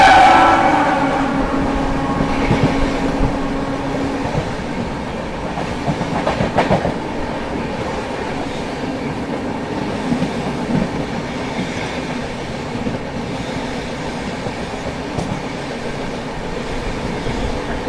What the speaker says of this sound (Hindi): सामने से आती हुई आनंद विहार टर्मिनल पूरी पुरुषोत्तम एक्सप्रेस।